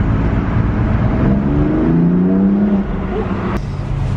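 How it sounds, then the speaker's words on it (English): A car downshifting and accelerating on a city street in San Francisco, the engine note rising in a steady pull over wind and road noise, close and fairly loud throughout. "we can downshift and get a quick pull."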